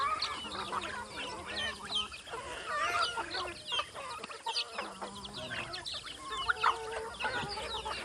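Backyard farm chickens and small chicks cluck and peep continuously at feeding time as broken-rice feed is given, a busy mix of close calls without pause.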